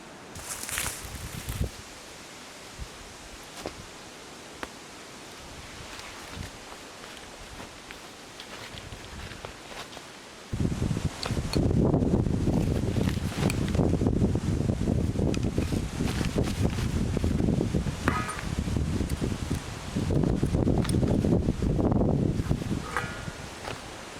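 Gusts of wind sweep through the Australian bush, light rustling at first, then a sudden loud burst of buffeting wind noise against the microphone that holds strong before easing slightly near the end.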